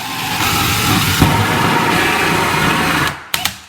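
A power drill boring through a veneered panel during a bathroom renovation finish-out, a steady loud whir held for about three seconds, then stopping with a couple of short bursts near the end.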